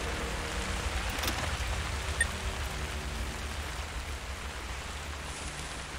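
Steady rain falls in the video game Generation Zero, a constant soft hiss of drops spread evenly across the whole stretch with no break, alone and without talk.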